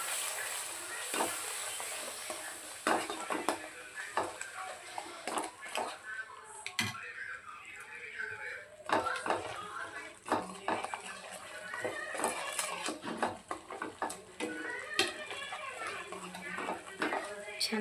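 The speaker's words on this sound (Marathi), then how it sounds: "छान परतून घेऊया." Ground masala for crab curry sautéed in a pan, with repeated spoon scrapes and clinks over a soft sizzle, close but fairly quiet, while a person talks throughout.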